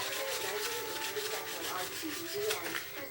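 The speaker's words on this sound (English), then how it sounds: "Now you can sand on the face of the block if you want to." Sandpaper rubbed back and forth along the edges of a small wooden block for a primitive nativity craft, a steady close scratchy rasp in quick repeated strokes.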